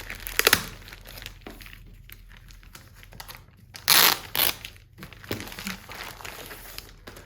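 Crinkling and tearing of a mailed package's wrapping with sharp bursts of packing tape being pulled and ripped, close by, with quieter rustling between.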